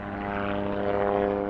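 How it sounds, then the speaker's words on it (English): A helicopter flies overhead during a police search with canine units in a backyard, its steady droning rotor and engine noise filling the whole stretch at constant loudness, with no talk. "But once the helicopter came"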